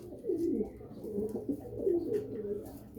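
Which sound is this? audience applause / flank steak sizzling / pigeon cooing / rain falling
pigeon cooing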